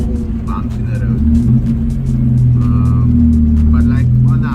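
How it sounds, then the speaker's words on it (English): A Honda Civic drives over a bumpy gravel road. The engine gives a steady low rumble with tire and road noise, heard from inside the car, and a person talks over it throughout. "now I'm driving on this gravel road"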